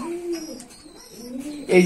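Pigeons coo in a loft with low, rounded, drawn-out calls, close and moderately loud. A sharper, louder burst of sound ends the clip.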